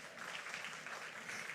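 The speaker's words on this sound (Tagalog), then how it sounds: "Ang masaya ay pumalakpak kay Lord." Church congregation applauding at a worship service, a continuous, even wash of clapping that sounds fairly distant and soft throughout the brief moment.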